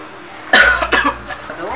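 A man at a clinic reception desk gives one sharp, loud cough, then a few weaker follow-up coughs and throat sounds, close to the microphone.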